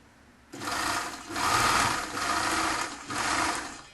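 A sewing machine runs in three or four short bursts, stitching the back seam of a lined chef's toque from a kit, close by with brief pauses between runs and no speech.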